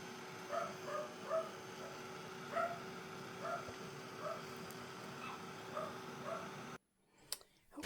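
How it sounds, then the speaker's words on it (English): Two pet dogs, PJ and Baxter, give a run of short barks and yips indoors at moderate distance, about a dozen spaced bursts over steady room hum, before falling silent and leaving a few brief rustles. "And I've got the dogs to stop barking."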